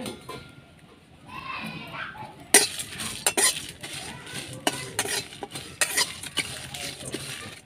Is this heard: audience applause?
no